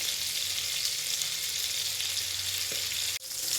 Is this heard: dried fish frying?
yes